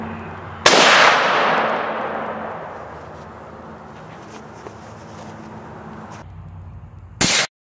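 A 6.5 Creedmoor rifle is fired at a stainless steel pot lid, giving one sharp, loud crack with a long ringing decay. A second abrupt burst follows near the end.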